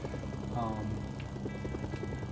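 A helicopter in the video game Mercenaries 2: World in Flames gives off a continuous rhythmic rotor thud under a brief higher whine, steady and close throughout, with game effects layered on top.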